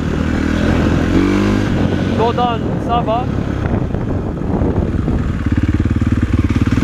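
A KTM 450 SXF four-stroke motocross bike's engine runs throughout under steady wind buffeting, with someone talking over it and a rougher, pulsing rev near the end.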